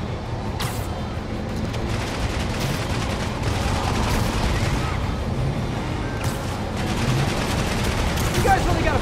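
Enemy gunfire in the Marvel's Spider-Man Remastered video game during the Silver Lining DLC: dense bursts of automatic weapons and sharp shots over a busy action mix, with a voice talking over it.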